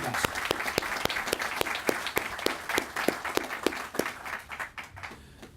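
Audience applause at a September 11 commemoration ceremony, a close sharp individual clap beating in steady rhythm over a wider field of clapping that thins out toward the end.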